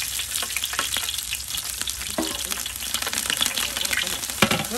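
Green chillies hit hot oil with fennel and cumin seeds for a jackfruit veg biryani, a loud, crackling sizzle with irregular pops and stirring scrapes, close up and continuous.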